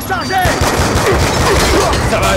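A FAL rifle fires in a video game in a dense, loud run of overlapping shots and booms, with game effects chirping through it and a voice talking underneath.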